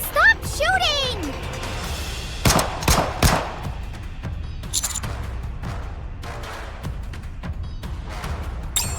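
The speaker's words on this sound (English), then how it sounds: "How many shots is she going to fire? Wait! Stop shooting!" Gunfire in the video game Nikke: sharp bursts of rapid shots with scattered single impacts, over game effects and a voice talking.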